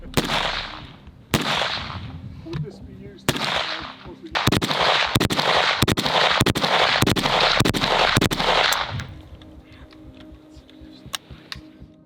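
Captured Russian AK rifles, including an AK-200 export variant, fired by soldiers in Ukraine: loud close single shots at first, then rapid strings of sharp cracks, fading into quieter clicks and handling noises.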